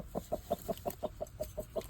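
A hen sits on hatching eggs, clucking in a steady, evenly paced series of about ten soft, close calls.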